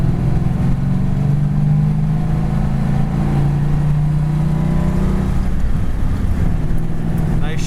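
A 1938 Ford Tudor rumbles along the road with a loud, steady low engine drone from inside the car, easing off and changing pitch as the driver shifts down a gear toward the end.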